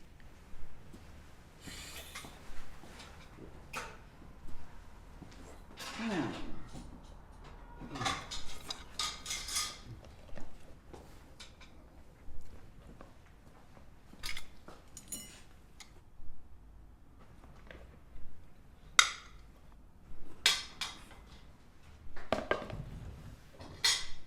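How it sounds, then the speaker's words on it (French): Cutlery and a plate being fetched and handled, giving scattered clinks and metallic rattles in irregular bursts across a quiet room, with no talk. "qu'est-ce que t'attends pour aller chercher des couverts et une assiette?"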